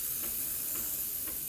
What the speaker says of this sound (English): I'm gonna wait for it to start outputting steam